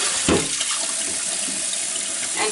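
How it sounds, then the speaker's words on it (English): Cold tap water runs and splashes over fresh spring butter in a bowl, a loud continuous gush up close with a sharp splash at the start. "just pour cold water in"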